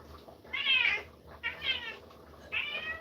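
An old grumpy female cat lets out three close, whiny meows, the first one drawn out. Short quiet gaps separate them.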